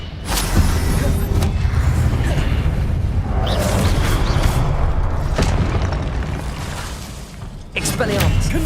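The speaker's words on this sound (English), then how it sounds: "Confringo!" Booming Confringo spell blasts from Hogwarts Legacy combat crash and shatter one after another, loud and near over a constant heavy rumble, with voices talking in between.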